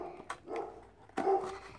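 A dog barks a few short times nearby in a quiet room, brief sharp yelps with pauses between.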